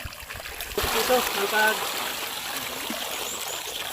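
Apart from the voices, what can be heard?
water running, trickling during gold processing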